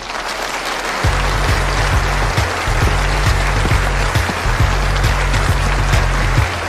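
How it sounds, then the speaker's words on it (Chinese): An audience claps steadily at a snooker open tournament in China as the match referee is introduced, a dense, even wash of applause throughout with no speech over it. "掌声有请"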